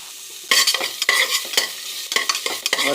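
Onions frying in butter in a pan, loud close sizzling with repeated scraping stirs of a spoon in bursts, no talking.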